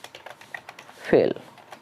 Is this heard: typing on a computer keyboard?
yes